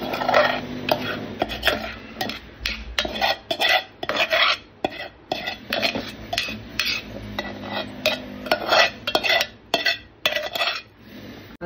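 Uncooked rice tipped into a pressure cooker for mutton biryani, heard as close, irregular metallic clinks and scrapes of a spoon against the pot, with rustling pours and no talking.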